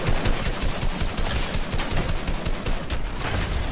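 Dense, continuous gunfire crackles through a Fortnite match, rapid overlapping shots forming a loud, steady barrage that stays busy from start to finish.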